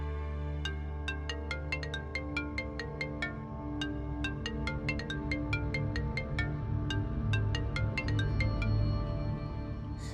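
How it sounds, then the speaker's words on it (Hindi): A phone ringtone plays a repeating melodic tune of bright plucked notes over a steady backing, loud and continuous for about ten seconds with no talking. "कितने मिस कॉल्स बाद आप फोन उठाती हैं?"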